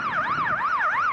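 Wailing two-tone ambulance siren on a bright orange Finnish Mercedes emergency vehicle, sweeping up and down in steady regular cycles, loud and close, with no voices over it.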